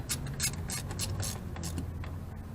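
Ratchet wrench tightening bolts in a cross pattern on a 2007-2014 GMC Sierra, giving a close, steady run of quick clicking strokes with no talk.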